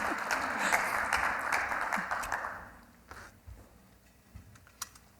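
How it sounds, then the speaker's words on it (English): Audience at a developer conference claps briefly, a dense burst of hand claps lasting about two and a half seconds before fading to a few scattered claps in a quiet room. "You can clap for him if you want."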